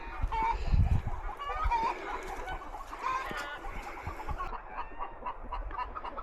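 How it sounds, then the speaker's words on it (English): Chickens cluck and squawk close by on a ranch, a busy overlapping flock with some louder calls early on that settle into steady background clucking. "Chicken, come back."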